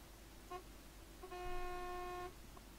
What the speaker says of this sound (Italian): Suoniamo il clacson.